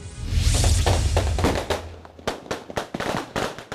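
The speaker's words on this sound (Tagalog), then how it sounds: "Halos yumanig ang paligid sa dami ng paputok na sinalubong ng mga taga-Tondo sa Maynila ngayong bagong taon." Dense New Year firecrackers bursting in the streets of Tondo, Manila, a rapid barrage of loud cracks and thumps that thins into separate sharp pops with brief gaps between them.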